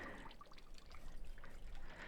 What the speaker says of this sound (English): this natural spring coming straight out of the mountain